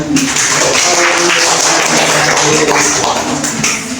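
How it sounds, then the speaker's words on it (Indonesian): A roomful of students at a madrasa in Ambulu claps together in class, a loud, dense and sustained patter that carries on through the whole stretch. "Terima kasih tepuk tangannya."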